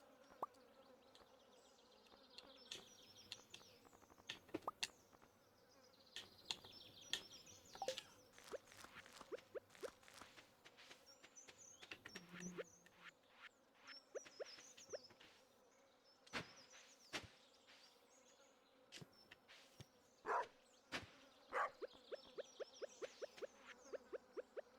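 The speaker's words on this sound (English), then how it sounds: "What is that noise? Sounds like there's bee somewhere." Bee buzzing nearby, a faint humming drone that wavers and comes and goes over scattered clicks and taps.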